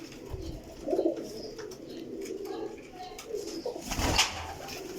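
Pigeons coo softly in a breeder's loft. Low, murmuring coos repeat at a moderate distance, with light rustling and a few sharper knocks in the background.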